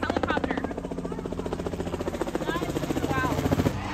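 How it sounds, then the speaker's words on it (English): A helicopter flies overhead at an outlet store on the drive to Disney World, giving a steady, loud rotor chop with a rapid regular pulse that carries through the whole stretch while voices chatter faintly in the background. "and there's a helicopter."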